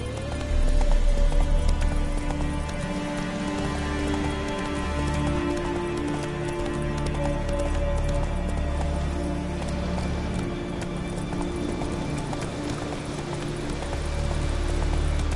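Roach, Geralt's horse in The Witcher 3, trots with a steady run of hoof clip-clops over a rain-like hiss and a low, sustained background drone, with no talking.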